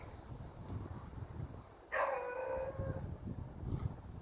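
A hound dog lets out one drawn-out howling bark from a short distance outdoors, a single wavering call that trails off over a quiet wooded background.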